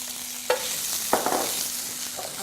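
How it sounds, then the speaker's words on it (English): Ginger and garlic stir-frying in oil in a hot pan, a steady close hiss broken by two quick stirring scrapes. "And then I'll stir fry my vegetables. So I'm gonna start with a little bit of ginger garlic."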